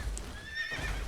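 A horse whinnies in the video game Nioh 3, a short, close, wavering neigh of about a second over low rumbling background noise.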